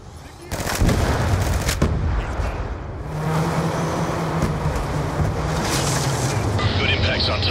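Gunfire from an A-10 Warthog in the video game Black Ops 2 sounds as a loud, continuous rushing roar with a low droning rumble. Game radio voices talk over it.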